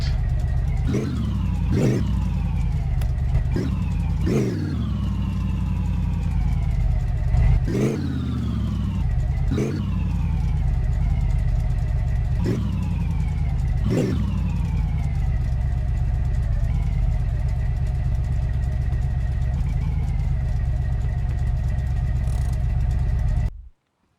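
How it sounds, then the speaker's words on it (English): Rat rod engine fired up without exhausts mounted, in a garage: a loud, steady unmuffled idle with repeated sharp revs rising and falling throughout, close and continuous until it cuts off at the end. "It's still going to be quite loud because we didn't mount the exhausts yet, so we're just going to fire it up"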